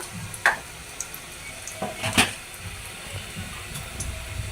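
Onion and garlic paste sautéing in a pan for beef lung bhuna, a soft low sizzle with a few sharp spatula scrapes and clinks against the pan, close by and alone.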